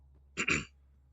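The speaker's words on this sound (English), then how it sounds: "I had to clear my throat" A single short throat clear, two quick rasping bursts close to the listener, then quiet, during Mass Effect Andromeda gameplay.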